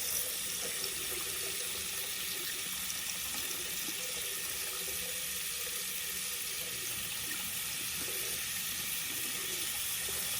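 A tap runs steadily into a sink for the full stretch, a continuous close rushing hiss of flowing water that holds the same level throughout with no voices.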